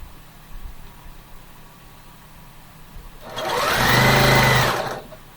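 A sewing machine stitches quilt rows together in one close, steady burst of about two seconds, following a quiet stretch of room noise.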